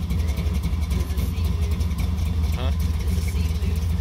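A 1973 Plymouth Satellite with a stroker big block engine runs loud and steady nearby, its deep rumble holding throughout with a slight rise in revs, while people talk over it.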